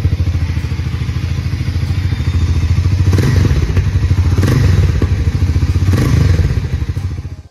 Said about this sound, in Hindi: एक बार मैं थ्रॉटल देके भी सुनाता हूँ।